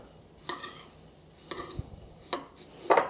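Melted butter being mixed into Japanese panko breadcrumbs, a few soft scraping stirs with light clinks of utensil against bowl, spaced roughly a second apart, close and quiet.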